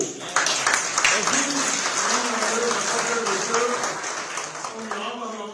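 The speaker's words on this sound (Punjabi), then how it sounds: "ਤਾੜੀਆਂ ਮਾਰੋ ਤੇ ਛੱਤ ਹਿਲਾ ਦਿਓ" A crowd at a political rally breaks into sustained applause, a dense wash of clapping that runs the whole stretch while voices carry underneath.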